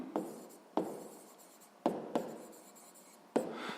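A math solution being handwritten, likely on paper, with short scratchy pen strokes; five distinct stroke onsets, each fading quickly, close up and quiet, with no talking.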